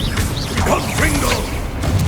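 A Confringo blasting spell is cast in the Hogwarts Legacy video game, a busy mix of whooshing, clanking magical effects that runs throughout with a few sweeping tonal streaks and no clear single boom.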